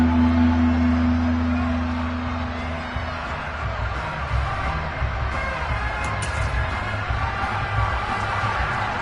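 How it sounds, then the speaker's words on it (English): A stadium crowd roars steadily in an American football video game ahead of a big third down. The broad, continuous murmur swells slightly and stays in the background. "the crowd getting into it as we come up on a big third down"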